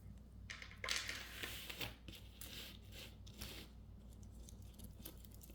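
Glass bead necklace with tiny beads between cone-shaped ones being laid out on a surface: soft close-up clicking, rattling and clinking of beads in quick irregular bursts, quiet and without talk.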